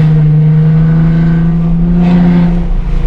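A car engine drones loudly and close with a steady pitch, then swells and shifts as it revs harder toward the end, with no talking.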